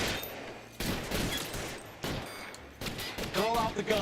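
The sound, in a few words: gunfire in the video game L.A. Noire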